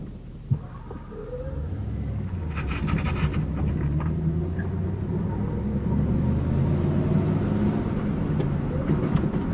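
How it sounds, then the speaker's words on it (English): A manual-transmission car lurches and rocks as the clutch is dumped, a low rumbling engine that swells and stays steady with a few knocks and creaks from the cabin, heard from inside. "I just dumped the clutch out. You see how it rocks back and forth?"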